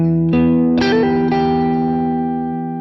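An electric guitar lick, played with effects and light distortion, moves through quick hammered notes over a ringing chord, then sustains and slowly decays.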